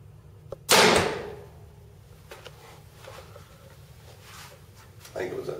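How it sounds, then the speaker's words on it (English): A single crossbow arrow fired from a Barnett Jackal crossbow at 20 yards: one sharp loud snap of release, then quieter ticks and a faint thud afterward, with a few words of speech around it. "But there goes an arrow."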